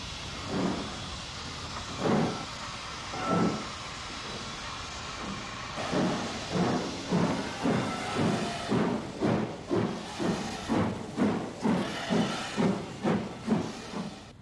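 A 1960s steam locomotive starting away on a Pennine run toward Huddersfield, with a few slow, widely spaced exhaust chuffs and hissing that quicken into a steady rhythmic beat as the train gathers speed.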